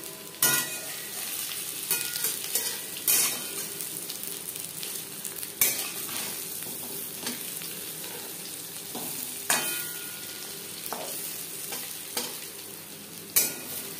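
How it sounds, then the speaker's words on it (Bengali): Katla fish coated in masoor dal fries in a pan with a continuous crackling sizzle, broken by sharp scraping and clinking of a spatula turning the pieces at irregular intervals, close and with no talk. "একটু সময় নিয়ে ভাজতে হবে। একটা সাইড ভাজা হয়ে গেলে অপর সাইডটা উল্টে দেবে।"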